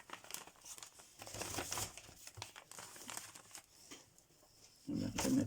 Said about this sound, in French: je vais remettre ça dans ta magnifique enveloppe en craft que je vais garder d'ailleurs aussi